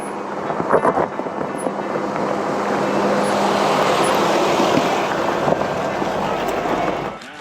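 An off-road vehicle in four-wheel-drive low range climbs a steep desert hill near Las Vegas. The engine drones steadily and nearby, with crunching and rattling from the tires and body over loose ground, and no voices.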